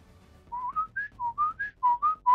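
A person whistles a short, bright repeated melody of about nine clear notes in quick, evenly spaced bursts, close and alone in a quiet room.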